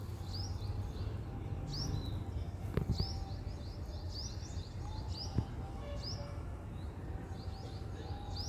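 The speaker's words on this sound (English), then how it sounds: "cute little birds in the nest" Small birds chirp in a nest on a terrace garden: thin, high peeping calls come in repeated bursts, with a few faint clicks and low outdoor rumble underneath.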